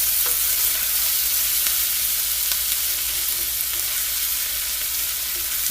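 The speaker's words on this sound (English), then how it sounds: "And now we finna sort of deglaze the pan." Liquid poured into a hot skillet to deglaze it while making corn chowder, giving a loud, steady, broadband sizzle with faint scraping stirs throughout and no voices.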